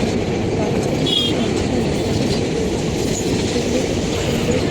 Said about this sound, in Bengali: যেহেতু ট্রেন একটা চলন্ত ট্রেন চলছে